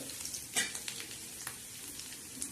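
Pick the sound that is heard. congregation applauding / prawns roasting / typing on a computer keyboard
prawns roasting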